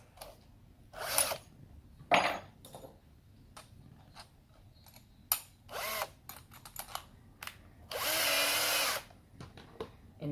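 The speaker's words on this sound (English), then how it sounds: "I'm going to drill holes at the bottom of the second bucket" An electric drill bores holes through the bottom of a plastic bucket for a worm farm, with short whirring bursts and one longer sustained run, separated by quiet handling noises.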